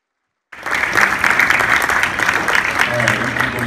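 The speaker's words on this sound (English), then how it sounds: "So everyone give these guys a round of applause." A crowd claps for student athletes at a high school National Signing Day ceremony, steady close applause starting abruptly after a brief silence, with voices and a low hum mixed in.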